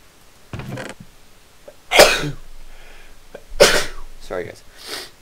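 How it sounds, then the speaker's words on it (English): A person with allergies sneezes sharply twice, each one a loud, close burst, with softer breathy and mechanical noises between them. "I have allergies, so I will sneeze in my videos sometimes."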